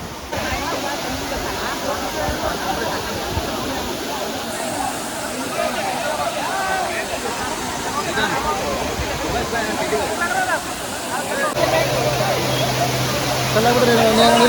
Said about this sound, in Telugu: ఆ పైనుంచి వాటర్ వస్తున్నాయి